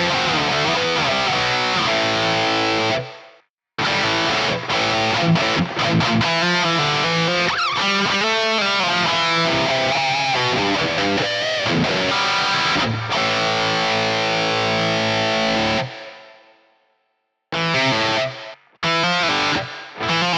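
Heavily distorted metal guitar played through a CHUCK tube amp with digital reverb, dense sustained chords and riffs with two abrupt stops where the sound cuts to silence before resuming loud.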